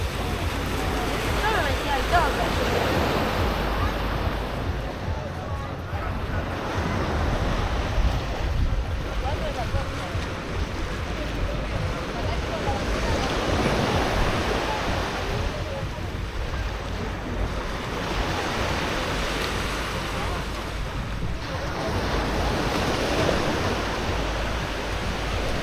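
Ocean waves wash steadily onto the beach at Canasvieiras during a morning walk, a continuous broad surf roar swelling and easing in slow surges, with wind buffeting the microphone throughout.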